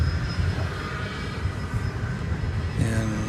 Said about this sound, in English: That was American Flight 2198 going to Sacramento, California, an Airbus